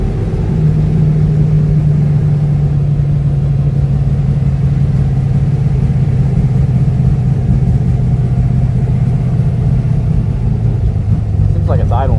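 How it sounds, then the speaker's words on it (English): A drag racing car's engine idles a little high from inside the cabin at a bracket racing event, a steady loud low hum and rumble held throughout, with people talking over it. "Seems like it's idling a little high"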